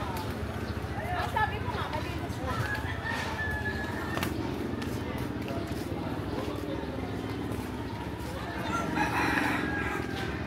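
A rooster crows and chickens cluck around coops in a crowded urban settlement in Tondo, Manila. The crowing is fairly distant under steady outdoor noise, and people talk nearby throughout.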